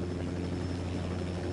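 Attack helicopter in the video game Ghost Recon Wildlands, its steady rotor and engine drone loud and continuous throughout, close by with a low throbbing hum and no talk.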